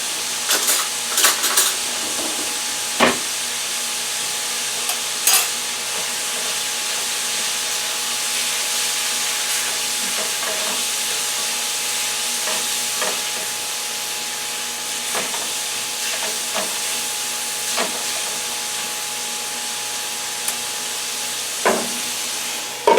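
Steady, loud sizzling hiss of T-bone steak beef frying in a stir fry pan, with occasional sharp clinks and scrapes of a utensil against the pan, continuing throughout.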